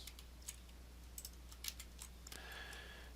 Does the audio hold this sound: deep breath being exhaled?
no